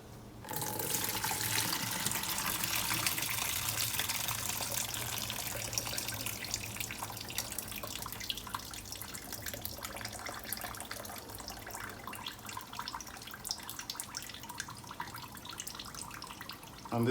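Warm water pours steadily from a tap for soaking glass noodles, a continuous close hiss and splatter that runs without a break and is heard alone.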